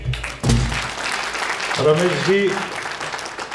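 Audience applause at a live Hindi performance, a burst of clapping that swells after a spoken name and continues under a voice.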